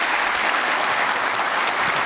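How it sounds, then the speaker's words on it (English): Audience applause fills a hall at the 2023 State of Macomb County address, a dense, loud and continuous crowd clapping with no voices over it. "that applause is for Vicki Rowinski."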